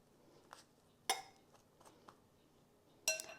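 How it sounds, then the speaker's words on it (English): A hot metal pot lid clinks against the rim as it's lifted and set down, with sharp clattering strikes around the start and end and a few faint taps between, in a quiet kitchen while apples soften for apple butter. "I gotta figure out a place to lay down this lid because it's hot"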